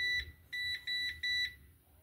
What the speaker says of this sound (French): Il y a juste un petit bip quand on tourne.